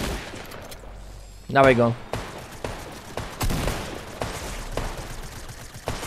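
Rapid bursts of FAMAS rifle gunfire in the Fortnite video game, repeated sharp shots scattered through the clip with someone speaking briefly over the action.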